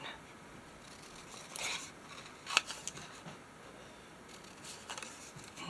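Small scissors snip a little paper piece for a junk journal, a few soft close cuts with faint rustling paper between them in a quiet room.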